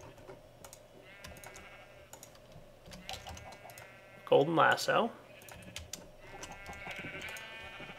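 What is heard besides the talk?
sheep bleating in a video game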